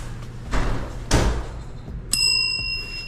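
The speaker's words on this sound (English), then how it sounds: "I'm just ringing this bell here" A bell rung at a business counter during a cargo van pickup gives one bright ring with a sustained, lingering tone, following a few dull thuds, with no talk.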